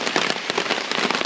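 Steady rain pattering and crackling on tent fabric and gear at a wet campsite, a dense continuous patter of close drops with no voices.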